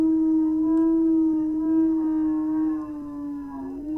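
A dog howls close and loud, one sustained wavering note that slowly falls in pitch near the end, with no voices over it.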